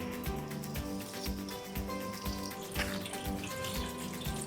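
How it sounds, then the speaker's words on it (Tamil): Four glasses of raw white rice being rinsed in water, a continuous close splashing and swishing with rhythmic sloshes as the grains are stirred and rubbed by hand. "இதை இப்போ நல்லா அலசி ஊற வைக்கலாம்"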